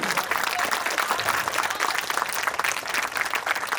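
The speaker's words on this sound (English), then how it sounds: "can we have a huge round of applause for this successful event?" An audience at a school event on artificial intelligence breaks into sustained applause, a dense steady wash of many hands clapping at fairly close range with no voices standing out.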